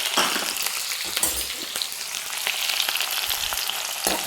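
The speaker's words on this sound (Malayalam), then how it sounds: "നമുക്ക് ചതച്ച് വെച്ചേക്കുന്ന ഉള്ളി ചേർത്ത് കൊടുക്കാം" Crushed onions hit hot oil with browned fenugreek for a Kerala fish curry, giving a steady, close sizzle and crackle with occasional stirring scrapes and no talk.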